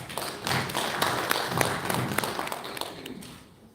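An audience at a live Uganda National Examinations Board event claps for the stakeholders, a run of scattered, fairly close hand claps that thin out and fade toward the end.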